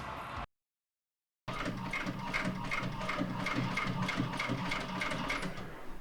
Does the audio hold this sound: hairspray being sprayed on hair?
no